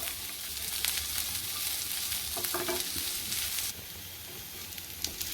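Ginger and garlic sauté with spices in hot oil for misal, a dense close sizzle with a few scraping stirs before the frying hiss drops somewhat near the end.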